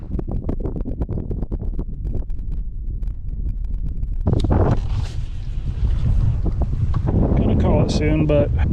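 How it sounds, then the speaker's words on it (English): Strong wind blows over a small pond during a kayak fishing outing, a constant loud rumble of wind buffeting the microphone, with someone speaking over it. "Have no idea if you can hear me over this wind."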